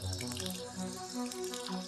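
Water trickling from a tap into a bucket of drywall joint compound being mixed, a steady close splashing and running sound with no talk.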